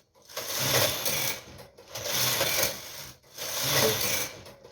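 A knitting machine carriage is pushed across the needle bed in tuck pattern at tension 8, making three long, near, raspy mechanical passes separated by short pauses.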